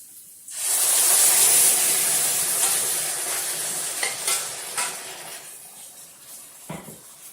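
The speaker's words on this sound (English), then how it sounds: "So I'm going to pour in the sauce." Sauce poured into a hot pan with chicken, bursting into a loud sizzle that hisses and bubbles steadily, then gradually settles with a few scrapes and knocks of stirring at close range.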